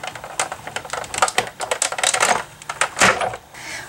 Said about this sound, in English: then you can start turning and run that through the Big Shot